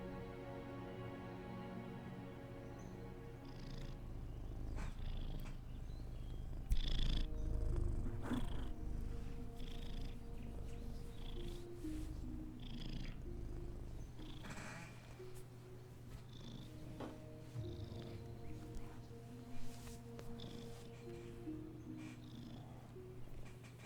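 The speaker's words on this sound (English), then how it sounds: "He meows like he smokes like 5 packs a day." A raspy-voiced cat purrs steadily close to the microphone, with a few hoarse meows breaking through over a low, constant background hum.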